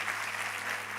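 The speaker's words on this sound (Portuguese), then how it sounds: "Aplauda Jesus mais uma vez por ela, gente." A church congregation claps in a steady, dense wash of applause, a brief, even burst with no pauses.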